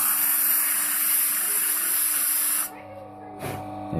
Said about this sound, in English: I just put it on the disc sander here.